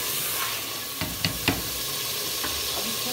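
Mutton fries with cardamom, cinnamon and black pepper in a pan, giving off a steady close sizzle, and a spoon scrapes and knocks against the metal a few times as the meat is stirred.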